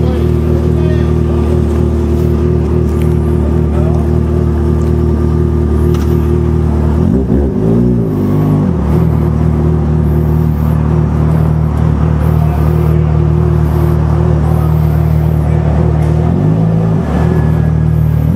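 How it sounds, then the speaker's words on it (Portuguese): A Yamaha XJ6 motorcycle engine idles and revs to warm up, a loud, close, steady drone with a couple of throttle blips midway and near the end, no talk over it. "Acho que dá pra dar uma esquentadinha na moto"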